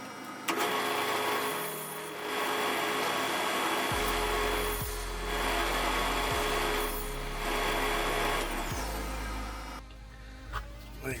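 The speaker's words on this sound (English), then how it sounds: "And I'll go cut these out." Pieces of wood for a model build are cut with a power tool, its whining drone rising and falling over several close cutting passes, then stopping near the end.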